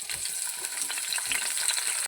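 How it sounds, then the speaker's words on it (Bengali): Eggplant pieces fry in hot oil, giving a steady close crackle and sizzle with light stirring sounds throughout before it cuts off abruptly. "তেলটা গরম হয়ে গেছে, বেগুনগুলো সব ভেজে নেব।"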